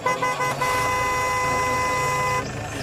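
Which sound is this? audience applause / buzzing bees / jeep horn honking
jeep horn honking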